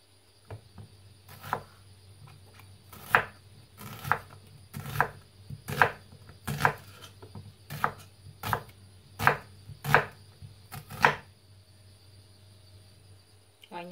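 A knife chops through an onion on a cutting board in a run of about a dozen crisp, evenly spaced thuds, close and distinct, over a faint steady hum.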